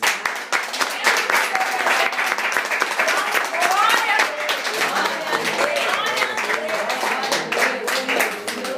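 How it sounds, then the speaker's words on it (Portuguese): A church congregation applauds after a closing prayer during a Portuguese-language service, steady dense clapping filling the room at a constant level, with voices mixed in throughout. "Aplaude aí esse Deus."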